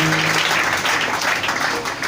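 A church congregation claps in acclaim of the Lord, a brief dense burst of applause filling the room.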